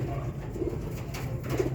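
A pigeon coos softly in low, repeated throaty notes, close by, over a steady background hum.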